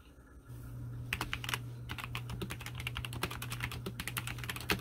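Fast typing on a modded Tecware Phantom 104 mechanical keyboard, crisp clacking keystrokes in quick irregular runs, close and clear over a faint steady hum.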